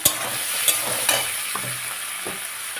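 Tomato frying in a hot pan with garam masala and chilli for a chicken curry, a steady loud sizzle broken by a few sharp spoon scrapes and stirring knocks, no voices.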